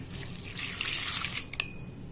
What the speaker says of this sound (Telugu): గోరువెచ్చటి నీళ్లు పోసుకుందామండి.